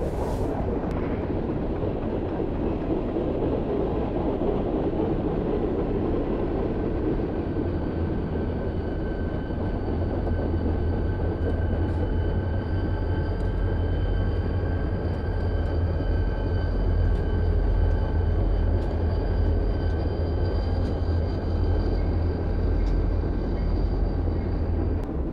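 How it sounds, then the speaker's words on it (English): A mountain railroad train rumbles steadily past in fog on a historic mountain line, a continuous low rolling drone with faint high squeals and a second train approaching, no talk. "Doug, look at it disappearing into the fog with another train coming our way"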